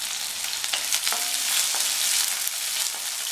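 Small onions and green chilies sauté in a pan for okra sambar, giving a bright continuous sizzle broken by a few light spatula knocks, with no one talking.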